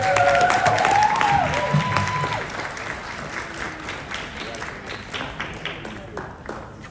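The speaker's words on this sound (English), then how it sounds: "So please give her a round of applause for our sixth honoree of the night" An audience at a Queens Lunar New Year celebration applauds an honoree with full, steady clapping and light cheering. A brief tonal sound rises over the opening moments, then the clapping settles into an even, lasting wash.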